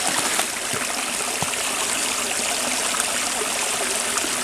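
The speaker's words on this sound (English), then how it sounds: "Look how much water's moving through here." Stream flowing beside a hiking trail near a plunge pool at Clark Reservation State Park, a steady close rush of moving water with small splashing bursts and no talk.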